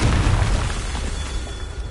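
The Confringo fire spell in Hogwarts Legacy erupts in a single deep, rumbling boom that fills the opening moment, then fades into a rolling decay.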